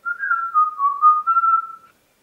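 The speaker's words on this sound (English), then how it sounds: "can you whistle?" A person whistles a short wavering tune of about two seconds, clear and close, with no talking around it.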